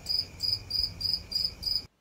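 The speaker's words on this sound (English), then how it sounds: "All you're gonna do is hear crickets." Cricket chirping sound effect: six evenly spaced bursts of high, shrill trilling over a faint steady hiss, ending abruptly in silence.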